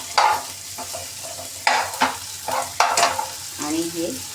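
Ingredients for drumstick soup sautéing in a pan, with a steady sizzle broken by repeated scraping strokes of stirring, close and clear with no talking.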